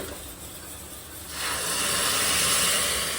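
Hot spice tempering poured in during cooking, a sudden loud steam hiss that bursts in partway through and holds steady after a quieter start.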